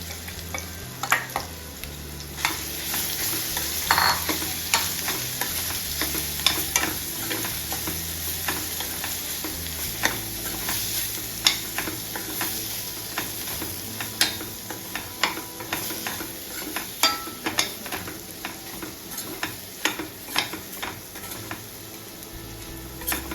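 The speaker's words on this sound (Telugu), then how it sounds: "తర్వాత మనం మీల్ మేకర్స్ ఇవి కారం మసాలా ఇవి పట్టు ఇవన్నీ కలుపుకొని ఉంచుకున్నాం కదా ఇవి వేపుకోవాలండి" Meal maker soya chunks coated in chilli and masala frying in oil, a steady close sizzle broken by frequent scrapes and clinks of a spoon stirring against the pan.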